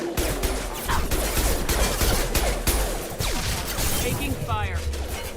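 Gunfire in Mass Effect 2 Legendary Edition during a combat firefight, dense overlapping shots and impacts crackling loudly throughout, with in-game voices and chatter mixed underneath.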